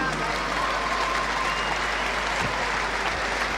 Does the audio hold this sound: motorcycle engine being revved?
no